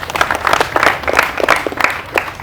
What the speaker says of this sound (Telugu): రోహిత్ భాయ్ కూడా క్లాప్స్.